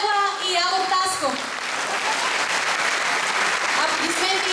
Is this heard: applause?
yes